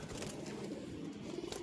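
Caged pigeons coo steadily at close range over a dense, continuous background, with no voices heard.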